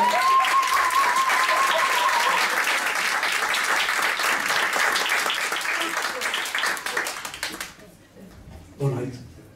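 Audience applause for a comedian at a stand-up comedy gala, a dense, loud wash of clapping that holds steady, then fades near the end as a voice begins to speak.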